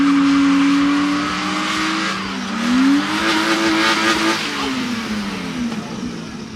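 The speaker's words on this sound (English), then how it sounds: "you've got Mercedes AMG A45 in the right hand lane and the Beamer in the left." Mercedes-AMG A45 and a BMW launch side by side at a drag strip, engines revving hard and loud with rising and falling gear tones, close by and continuous, with a brief tire squeal.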